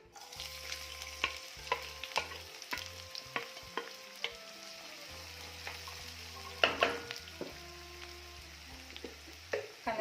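A large finely chopped onion frying in hot oil for a potato curry, with a continuous sizzle and repeated scraping stirs of a spoon against the pan, close and clear, no voices.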